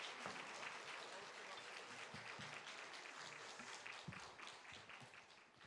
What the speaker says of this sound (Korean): 나오실 때 박수로 맞이하겠습니다.